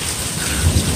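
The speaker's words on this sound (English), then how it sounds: "Severe thunderstorm warning," A severe thunderstorm in Newark, Ohio: heavy rain hisses steadily while low thunder rumbles close by, loud and continuous with no voices.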